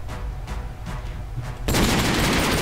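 Grenade launcher fire in a German-language action video game: a few muffled shots, then a sudden loud blast of noisy gunfire that fills the rest of the moment.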